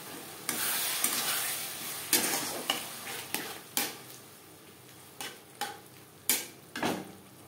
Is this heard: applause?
no